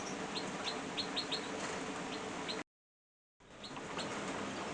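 A greenfinch hen in a show cage, with soft flutters and a few faint high chirps over a steady room hiss, broken by a brief silent gap.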